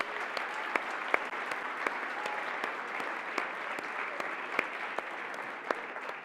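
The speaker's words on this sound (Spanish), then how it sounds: "quiero que les demos un aplauso a todos los organizadores por todo el trabajo que han hecho" A conference audience applauds the organizers with steady, dense clapping from many hands, sustained at an even level throughout, with scattered sharper claps standing out.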